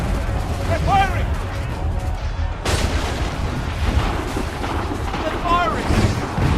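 Ships in Assassin's Creed III fire their cannons amid wind and sea noise, with heavy booms and rumbling blasts rolling through a dense, loud battle soundscape while voices shout over it.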